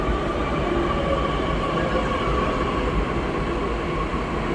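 A Pune metro train runs with a steady, loud rumble and rushing hum that stays even throughout, with no voices.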